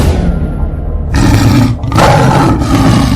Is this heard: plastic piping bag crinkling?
no